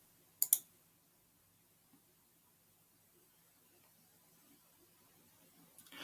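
Two quick, sharp computer mouse clicks sound close and clear near the start, with another faint click at the very end, set against a quiet background hiss.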